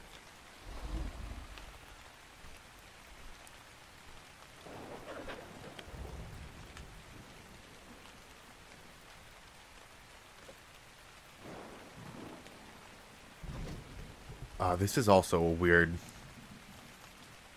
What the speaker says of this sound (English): Having it rain.